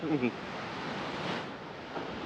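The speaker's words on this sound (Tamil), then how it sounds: "அலை பார்த்தீங்கன்னா உங்களுக்கு நல்லா அடிக்குது பாருங்கள்" A constant close roar of sea waves breaking on a beach in Kannur, Kerala, blended with wind buffeting the microphone, a brief voice at the start.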